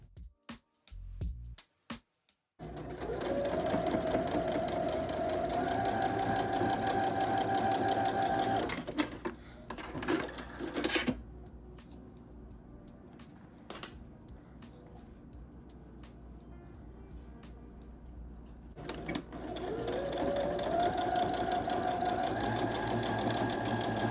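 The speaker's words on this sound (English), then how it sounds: "Arrange each row and sew the short edges together." A sewing machine stitches denim patchwork pieces in rapid, steady runs, starting and stopping with short pauses between bursts, close and clear.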